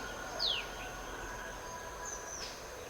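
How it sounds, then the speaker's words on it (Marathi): Birds in the early morning: two brief, thin chirps spaced a couple of seconds apart over a faint, still background, quiet and somewhat distant. "सकाळी सकाळी मस्त पक्ष्यांचा आवाज येतोय."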